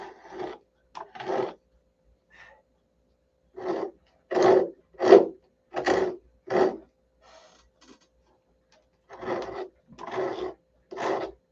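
A Vector 40 mount is sanded by hand, about a dozen separate rasping strokes, close and moderately loud, grouped in short bursts with brief pauses between them and no talk.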